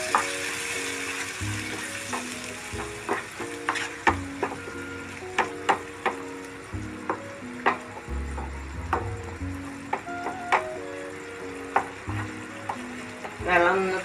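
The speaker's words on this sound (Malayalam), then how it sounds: "കുറച്ച് വെള്ളം ഒഴിക്കും. നന്നായി ഇളക്കാം." A sweet egg potato fry thinned with a little water is stirred in a pan, with a steady sizzle under repeated rhythmic scraping and tapping strokes of a spoon, close and fairly loud.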